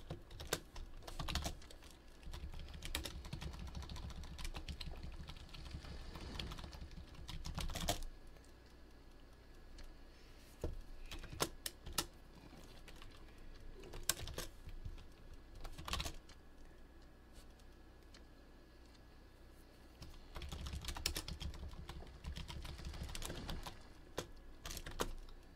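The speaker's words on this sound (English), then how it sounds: "And that'll filter out, like, all my mouse and keyboard." Computer keyboard typing and mouse clicks while playing the PC survival game Unreal World, a steady close clatter of keystrokes through most of the stretch with short busier bursts and a few louder clicks.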